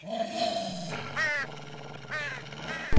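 A cartoon crow caws in several harsh, drawn-out calls against a backdrop of animated music and a low growl-like tone, with a brief thump at the very end.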